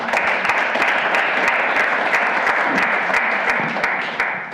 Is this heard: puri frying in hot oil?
no